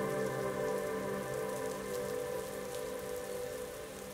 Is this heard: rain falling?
yes